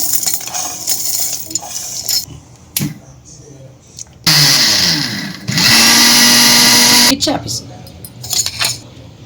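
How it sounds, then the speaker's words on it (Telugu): A mixer grinder whirs loudly in two bursts, grinding roasted, cooled cashews and sesame seeds, with rattling and clicks of the jar before and after. "ముందుగా వేయించుకున్నవి చల్లారినవి ఇప్పుడు మిక్సీ పట్టుకుందాం."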